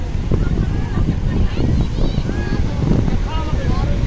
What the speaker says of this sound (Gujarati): જો ખાલી દરિયો જોઈ લ્યો, પવન ને મોજા કાંઈ ઘટે નહીં